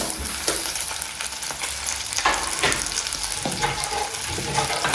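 Red onions and garlic sizzle steadily in oily pork in a pan, a dense continuous frying hiss broken by a few scraping stirs, close and fairly loud with no voices.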